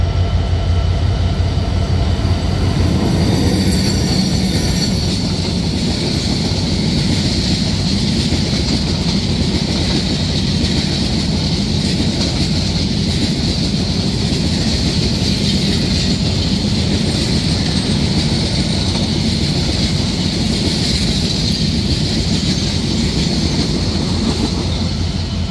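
A Bangladeshi express passenger train runs at speed on a double line, giving a loud, steady rumble and rattle of wheels and carriages that persists without break, with no voices.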